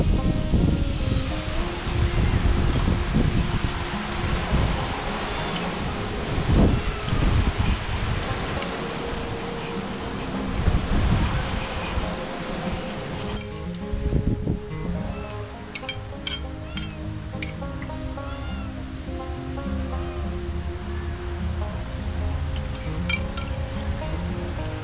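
Strong, steady wind blows across an outdoor spot at a home, a broad continuous roar with gusty rustling, loud throughout with no talking.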